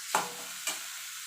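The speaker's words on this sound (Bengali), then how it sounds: "এবার দিয়ে ভালো করে পেঁয়াজের সঙ্গে একটু মিশিয়ে নেবো" A spoon works mashed fried eggplant together with onions in a frying pan, two soft scraping strokes against the pan over a faint, steady sizzle.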